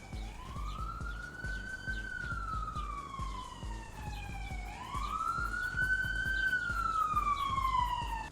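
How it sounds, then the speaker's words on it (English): A police siren wails outside near a backyard deck, its long rising and falling tone sweeping slowly twice, moderately distant and steady over low traffic rumble. "There's literally another siren"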